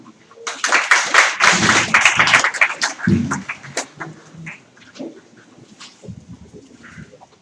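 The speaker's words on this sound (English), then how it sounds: "He deserves another round of applause." Audience applause at a 2016 public policy forum: a loud, dense burst of clapping that thins into scattered claps and fades toward the end.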